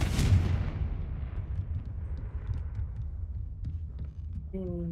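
A fire spell blasting in Hogwarts Legacy: one loud burst at the start that fades into a long rumbling tail, with a low hum near the end.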